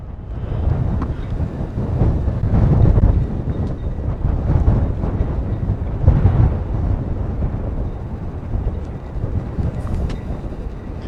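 Strong wind buffets the microphone outdoors in a steady, heavy low roar that swells and eases for the whole stretch, with no other sound standing out.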